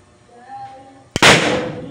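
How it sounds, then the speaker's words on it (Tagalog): A boga firecracker goes off with one sudden loud blast, and a long, noisy roar lingers after it. Faint voices and quiet background sounds come before it. "Ang lalakas na nga yung paputok"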